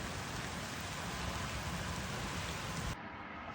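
Heavy rain dumping down steadily at a riverside fishing spot, a dense, loud, continuous roar of drops that drops slightly in level near the end.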